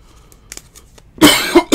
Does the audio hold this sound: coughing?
yes